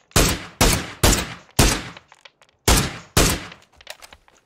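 MK47 rifle fire in a video game rings out as about six loud, sharp single shots in an uneven rhythm, each with a short decaying tail, followed by quieter clicks and small noises.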